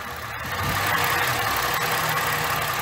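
A 2010 Ford Fusion V6 engine idles steadily, a continuous low mechanical rumble with a faint knocking texture, close and unbroken for the whole stretch.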